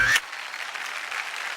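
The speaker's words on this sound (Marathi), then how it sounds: "एकदा जोरदार टाळ्या" A studio audience on a women's game show applauds a prize winner, a broad, moderately loud wash of clapping that follows a brief moment of voice at the start.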